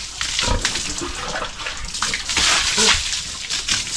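Water splashes and sloshes over an animal being bathed in hot weather, with irregular bursts of pouring and splattering running steadily for a few seconds.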